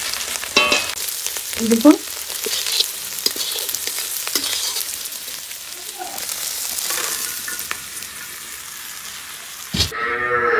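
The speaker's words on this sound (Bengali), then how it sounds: "এটা যত লাল লাল করে ভাজবো তত এটা টেস্ট ভালো হবে" King snail meat frying in a wok in a rural Indian village kitchen, a continuous bright sizzle with scraping stir strokes and occasional clinks, close and fairly loud, with a brief spoken word near the end.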